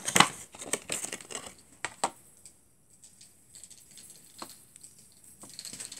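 Dry moss crinkles and rustles as it is handled and pressed on with a hot glue gun for an Easter decoration, with busy crackling bursts at first, then sparser, softer crackles. No one talks.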